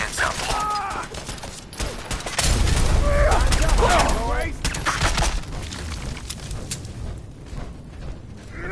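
Gunfire from the video game Fallout 4 comes in dense bursts and mechanical clatter, loud and continuous across the stretch and mixed with other game sounds.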